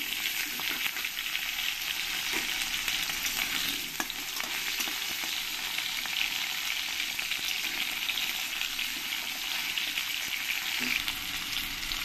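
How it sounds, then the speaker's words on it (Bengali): Cut potato pieces frying in hot oil in a wok, a loud continuous sizzle with constant crackle that holds steady throughout, with an occasional faint clink of stirring and no voices. "আলুগুলো আমি ভেজে নেব।"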